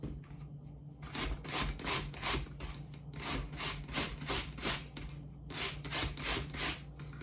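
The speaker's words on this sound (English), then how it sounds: "I grate it all and get that flesh off, and I do that with both apples" Apples rubbed against a kitchen grater in quick rhythmic rasping strokes, close and fairly quiet, with a short pause before the steady back-and-forth scraping resumes.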